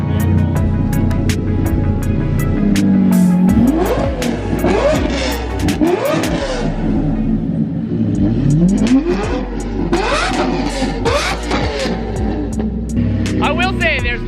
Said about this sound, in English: there's nothing quite like a Lamborghini Murcielago V12